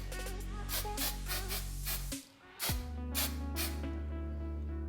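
Hairspray mists onto a man's hair for extra hold in several short hissing bursts, each a second or so, with a clear gap between sprays, close and fairly loud.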